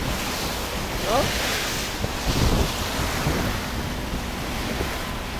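Calm sea off Mindoro on the way to Puerto Galera, heard as a continuous wash of gentle waves and heavy wind buffeting the microphone, with a boat's hum and a brief voice in the background.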